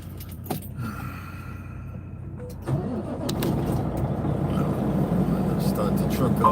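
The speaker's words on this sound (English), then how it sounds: "Start the truck up." A truck engine cranks and catches after a quiet stretch, then settles into a steady, loud idle that rumbles on to the end, with faint background voices.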